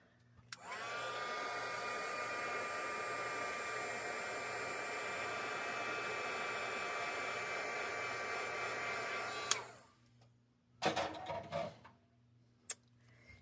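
A heat tool blows steadily for about nine seconds to melt embossing powder on a papercraft card, a loud, even whirring hiss close by, then cuts off, followed by a few faint handling clicks and rustles.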